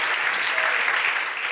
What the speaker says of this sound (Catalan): Que bé, està la gent aplaudidora.